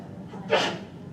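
A single sharp sneeze bursts out in a lecture hall over a low room hum, brief and fairly close, with no talking.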